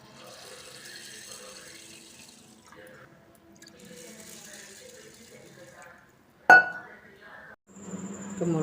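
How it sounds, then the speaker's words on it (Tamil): Water is poured over rice and lentils set to soak. A sudden splash and gush comes after quiet clinks and light handling, then a softer trickle follows. "இப்போ 2 வாட்டி கழுவிட்டு 3ஆவது வாட்டி முழுகிற அளவுக்கு தண்ணி ஊற்றணும்."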